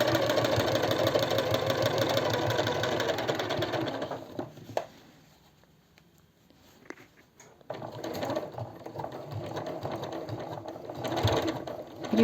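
A sewing machine stitching fabric seams on a DIY cosmetic organizer bag, running in a close, steady rapid whirring hum, pausing briefly midway with soft handling sounds before starting up and stitching again.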